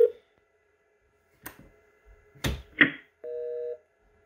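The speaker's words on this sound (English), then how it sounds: "So if I just wanted to dial, for example, 220, okay." Fanvil X7A SIP desk phone on speakerphone dialing out, with a few short keypad clicks and beeps followed by a steady two-tone dial signal lasting about half a second, close and clear.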